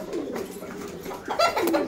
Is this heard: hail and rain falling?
no